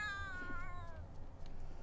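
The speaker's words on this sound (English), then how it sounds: "they heard an awful sound of a cat fighting for its life" Cat in a fight in The Sims 3, one drawn-out yowling meow that wavers and fades over about a second, heard alone and fairly quiet.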